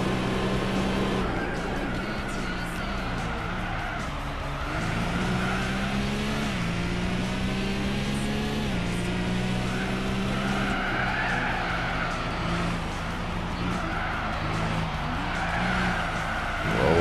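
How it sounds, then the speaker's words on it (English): A race car in Gran Turismo 4 screams through repeated high revs and sharp downshifts, the engine pitch climbing and dropping in steady waves, with tires squealing loudly and continuously. "Keep over-revving on the downshifts."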